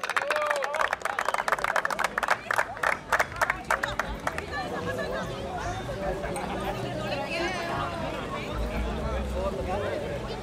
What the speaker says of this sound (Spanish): Un fuerte aplauso entonces, señores